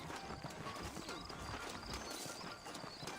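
Saddled horses in the Red Dead Redemption video game clop along steadily, hooves striking in a quick, continuous rhythm at close range, with a whinny rising among the hoofbeats.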